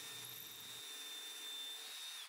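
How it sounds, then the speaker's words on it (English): A power drill whirs steadily at high speed for a couple of seconds while cutting countersinks into screw holes, then winds down and stops. "I added a countersink to the screw holes"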